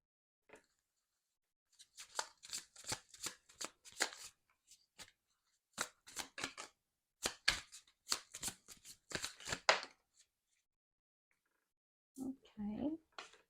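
Tarot cards being shuffled for a card reading, a run of crisp riffling bursts in quick rhythmic clusters, close and fairly loud, with brief pauses between shuffles and a short stretch of talk at the end.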